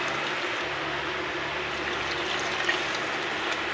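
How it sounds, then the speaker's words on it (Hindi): Fresh water is poured into a cooking pot in a Pakistani village kitchen, giving a steady, even splashing stream that stays close and constant throughout, with no talking. "अब पानी इसमें ताज़ा और डालेंगे।"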